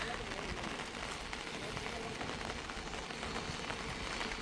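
Heavy storm rain in Jaffna pours in a dense, steady hiss, with gusting wind roaring constantly and evenly at close range and no break throughout.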